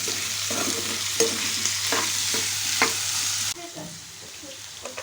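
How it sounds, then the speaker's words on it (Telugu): Potatoes frying in a pan as salt and turmeric are stirred in: a bright, continuous sizzle with intermittent spatula scrapes. The sizzle drops noticeably quieter near the end, and no one speaks. "సాల్ట్ వేస్తున్నాను అలాగే పసుపు ఇవన్నీ ఒకసారి మిక్స్ చేసేస్తాను"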